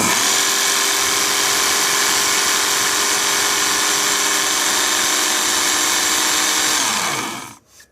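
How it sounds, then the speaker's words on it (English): A WorkSharp Ken Onion electric knife sharpener grinds a large blade with a steady, loud electric whine that runs continuously for several seconds, then winds down and stops abruptly near the end. "this little tiny sharpener with a big blade"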